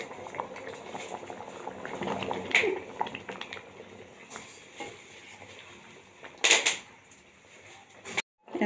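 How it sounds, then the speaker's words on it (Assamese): Curry poured into a kerahi wok bubbles and simmers with a steady liquid burble, broken by a few louder splashy bursts near the end. "এতিয়া মই এখন কেৰাহীত এইখিনি ঢালি দিম।"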